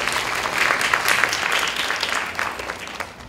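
An audience at a teaching assistant training workshop claps to welcome a speaker, dense steady applause that swells and then gradually thins out.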